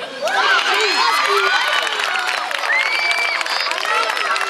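A crowd of schoolchildren at a school in Tudela, during a visit from the Osasuna football club, cheers and shouts in a loud, sustained wall of young voices with applause mixed in.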